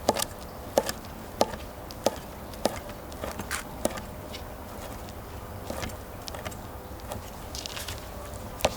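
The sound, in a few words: knife slicing cooked chicken on cutting board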